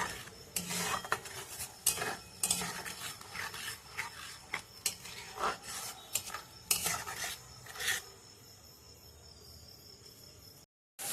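Chicken masala being stirred in a cooking pan: close, repeated scraping and clinking of a spoon against metal in irregular bursts, fading to a quieter hiss near the end.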